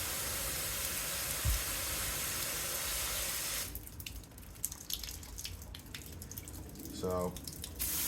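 Water from a hose rushes steadily into soil in a raised garden bed for several seconds, then cuts off, leaving faint dripping and a person talking.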